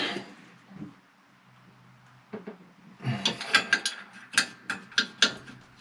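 A ratchet fitted with a 7/16 socket works a stud nut on an electric hot-water boiler; after a few faint clicks comes a sequence of sharp, close ratcheting bursts, each with a distinct pause between them.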